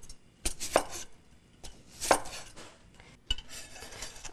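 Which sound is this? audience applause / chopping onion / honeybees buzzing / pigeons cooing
chopping onion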